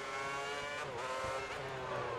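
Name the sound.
F1 2010 video game race car revving with wheel spin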